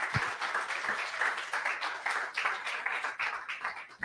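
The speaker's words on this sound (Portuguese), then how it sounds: "Dê um aplauso a Jesus." A church congregation claps during a family worship service, a lively crowd applause with distinct hand claps, steady and moderately loud, with no talking.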